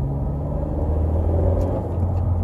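A 2017 Honda Civic 1.5T with a six-speed manual gearbox accelerates at half throttle with economy mode off, giving a steady, droning engine rumble heard from inside the car, alone and without talk.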